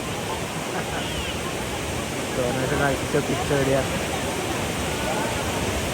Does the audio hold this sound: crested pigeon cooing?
no